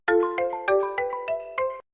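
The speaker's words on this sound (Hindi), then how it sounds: "मेरा मोबाइल बज रहा है" A mobile phone rings loud and close with a bright, repeating electronic melody pulsing about five times in under two seconds.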